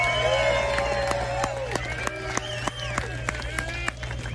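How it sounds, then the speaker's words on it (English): An outdoor crowd at a People's Convoy rally applauds volunteers with steady clapping, whoops and cheers, loud and sustained over a low hum. "a major round of applause and a hats off to all the volunteers that worked so hard today"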